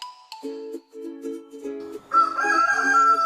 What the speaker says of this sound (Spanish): Ese sonido lo hace el gallo